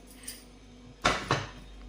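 A pressure cooker lid is set in place over vegetables with turmeric for boiling, giving two close, sharp metallic clanks a moment apart after a quiet start.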